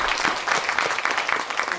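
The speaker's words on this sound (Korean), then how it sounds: "작가님께 다시 한번 큰 박수 부탁드리겠습니다" An audience at a book concert with Korean author Kim Jin-myung claps for him in sustained, dense applause that stays fairly even, with small swells and no voices over it.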